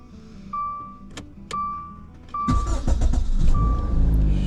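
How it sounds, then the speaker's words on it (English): Several beeping chimes and clicks, then a 2014 Dodge Dart engine cranks and catches at about two and a half seconds, settling into a loud, steady idle. "we'll try to start the car, and if everything is programmed correctly"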